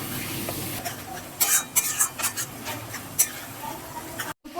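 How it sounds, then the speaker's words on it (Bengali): Minced mutton keema goes into a hot pan with whole spices such as black pepper, cumin and bay leaf. Brief scraping and stirring sounds play over a low sizzle, with a few sharper clatters midway. "এর ওপরে এবার আমি মাটনের কিমাটা দিয়ে দিচ্ছি।"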